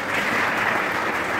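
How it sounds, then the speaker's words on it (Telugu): Audience applause at a ceremony honouring SSC toppers, a steady, dense wash of clapping from a crowd that holds evenly through the whole short stretch. "దానికి కూడా చప్పట్లు పడవచ్చు."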